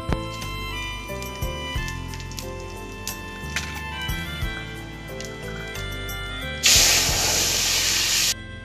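Dried red chilli, bay leaf and white cumin hit hot tempering oil for a mixed vegetable dal, with clinks of utensils and music before a sudden loud hiss of sizzling that holds steady for about two seconds.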